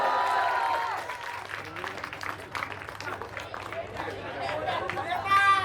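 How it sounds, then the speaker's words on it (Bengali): An audience at a school cultural day prize distribution claps, a loose spread of applause running under an announcer's voice and general crowd chatter, swelling louder near the end. "আরো জোরে হাততালি হয়ে যাও"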